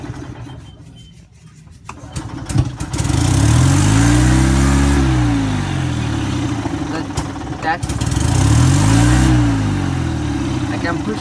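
A golf cart motor winds up under throttle, rising in pitch, holding, then falling back, twice in a row, loud and close, after an opening stretch of clicks and quieter noise.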